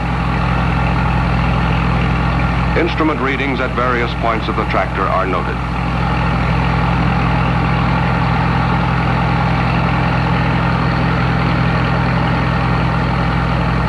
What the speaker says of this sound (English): The engine is run at the rated speed.